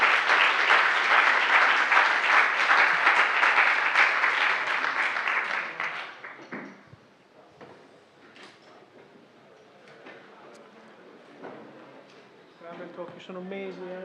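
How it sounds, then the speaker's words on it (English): Loud, dense applause from the audience after a talk at PyCon Italia 2025, a Python programming conference, fills the first six seconds, then fades into quiet room murmur with brief voices near the end. "last round of applause for Pietro."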